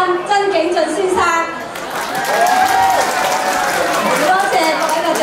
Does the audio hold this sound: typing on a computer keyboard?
no